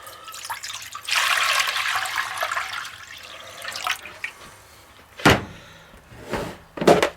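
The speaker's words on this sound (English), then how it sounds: "Onto a pot, we're going to add some water." Water poured into a cooking pot runs as a steady broadband rush for about three seconds, followed by a few short splashes and clanks near the end, all close and alone without talk.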